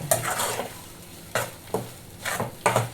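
Green chilli and tamarind chutney is stirred in a pan on the stove, with a spoon scraping in about five loud, close strokes over a soft sizzle and no talking.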